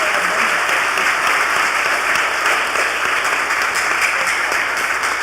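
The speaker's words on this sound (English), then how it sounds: "Let's give them a round of applause" An audience at a youth-led service applauds, a dense, steady wash of clapping that holds loud and even throughout, with no voices over it.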